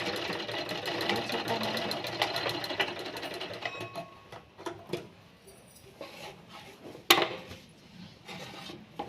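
A sewing machine stitches a frock, its rapid needle chatter running steadily for several seconds up close before stopping, followed by scattered handling knocks and clicks of fabric and machine.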